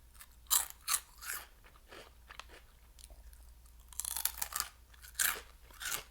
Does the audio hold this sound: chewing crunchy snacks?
yes